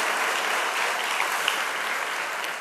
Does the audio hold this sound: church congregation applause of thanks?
yes